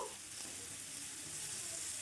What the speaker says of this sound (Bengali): সেই একই প্রসেস ক্যাপসিকামও হালকা ড্রাই করে নেবো